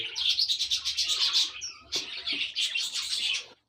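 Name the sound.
chicks chirping in a breeding box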